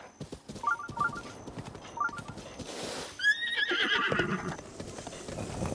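Horse in the video game Zelda: Breath of the Wild, with soft hoof clip-clops and rustling, then a loud close whinny that trails off into snorting and movement, no speech.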